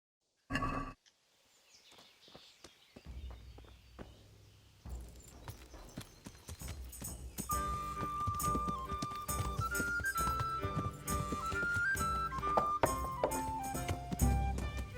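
A horse's hooves clip-clop in Kingdom Come: Deliverance, starting as a few sparse, close steps before a steady musical score swells in and carries over the footfalls.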